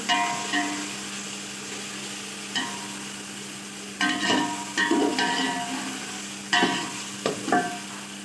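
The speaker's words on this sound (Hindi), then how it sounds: "अच्छी तरह चमचे को हिलाते रहे ताकि मसाले भून जाए" Spices with turmeric and ground coriander roast in a pot in a village kitchen while a spoon stirs them, giving several scraping, clattering strokes over a soft, steady sizzle, with no talk.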